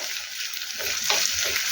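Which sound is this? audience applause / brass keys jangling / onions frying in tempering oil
onions frying in tempering oil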